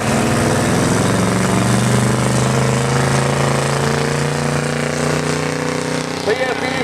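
A 1984 Chevrolet stock 4x4 pickup roars under heavy load at an FFA truck pull, its engine note climbing steadily and staying loud while an announcer talks over it.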